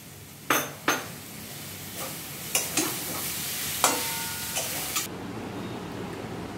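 A spoon stirs jackfruit and prawn bharta mixed with coriander leaves in a pan, giving several sharp scraping clinks against the metal over a soft steady background hiss, with no voices.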